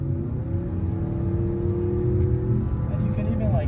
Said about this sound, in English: you can even like hear it in the engine sound